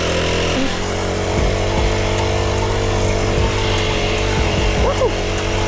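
A small engine on an Amazon mini bike buzzes and revs while being ridden, a loud close drone that rises and falls, with a voice briefly exclaiming over it.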